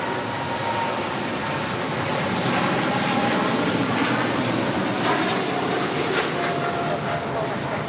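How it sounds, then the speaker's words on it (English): A DHL Boeing 747-8 freighter operated by Polar Air Cargo takes off from LAX for Seoul, its engines a loud, continuous, broadband roar that swells slightly and holds steady throughout, heard close with no talk. "This is DHL operated by Polar Air Cargo 9601 taking off to Seoul on a 747-8 freighter."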